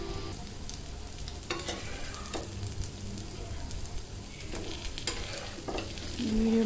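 Fish frying in hot oil until golden brown sizzles steadily up close, with repeated scraping and clinking of a spatula turning the pieces, and the sizzle swells louder at the end.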